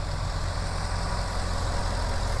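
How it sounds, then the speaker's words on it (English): A 2006 Chevrolet Corvette convertible's 6-liter LS2 V8 idles steadily up close, a smooth, even low rumble with a consistent throb and no voices over it. "Idle is super smooth and consistent. It sounds very healthy."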